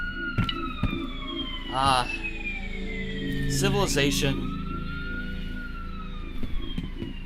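Police car sirens wail past in the video game F.E.A.R., several rising and falling tones sweeping by with engine noise, loud and layered, while someone speaks briefly over them.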